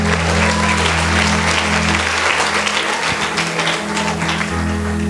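A church congregation claps as people return to their seats during a service. Loud, dense applause fills the clip over a steady low hum from the sound system.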